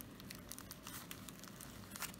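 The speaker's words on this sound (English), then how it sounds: "I'm gonna cut through this tape with my stupid little old scissors here." Scissors cut through packing tape wrapped around a boxed Samsung Galaxy S phone, giving close, faint crinkling and tearing with soft scratchy snips over a couple of seconds, without voices.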